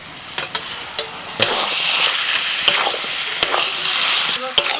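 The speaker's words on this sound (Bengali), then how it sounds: "মশলা মাখা মাংসটা দিয়ে দাও" Spice-marinated duck meat, Adivasi style, sizzles loudly in a hot pan with a steady close frying hiss, punctuated by sharp clinks and scrapes as it is stirred.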